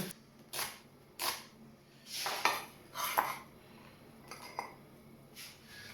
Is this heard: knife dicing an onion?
yes